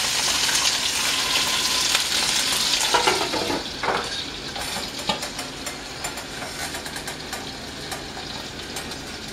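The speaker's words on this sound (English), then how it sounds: "So while this is searing" Braciole meat sears in a hot pan with a steady, close sizzle and crackle, a few clinks of utensils near the middle, and the frying continuing evenly to the end.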